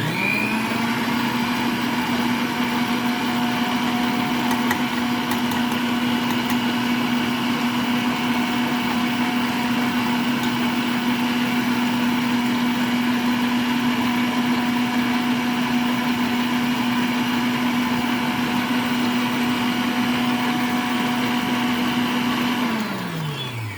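An electric mixer beats lime juice into key lime pie filling, giving a loud, steady motor whir with an even pitch that runs without a break and then winds down at the end.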